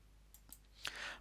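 A computer mouse clicks during a software demonstration, two or three soft, faint clicks spaced out over a second against a low hum.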